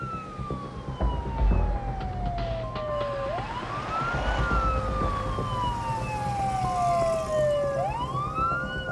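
A wailing emergency siren from an emergency rescue call sweeps slowly down and back up in long cycles, fairly loud, over rumbling traffic and background noise.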